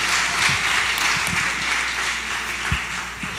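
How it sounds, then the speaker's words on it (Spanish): Audience applause at a Spanish-language religious talk, a steady wash of clapping from a crowd filling the whole stretch at even volume, with a few sharper individual claps standing out. "Un aplauso."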